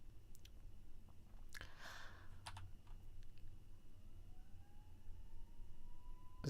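A faint ambulance or fire truck siren wails in the distance, its tone rising slowly and steadily over a background of low rumble and light clicking.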